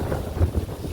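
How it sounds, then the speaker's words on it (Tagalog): Wind blows across a rooftop in gusty, low buffeting bursts, rumbling against the microphone in a couple of stronger surges, with no one speaking. "Yan, ang hangin dito sa bubong. Napakahangin."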